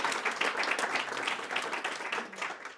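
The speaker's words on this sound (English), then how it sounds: "give them a round of applause because this is amazing" An audience claps for the hosts of a live event, steady dense applause throughout, fairly close and even in level with no talk over it.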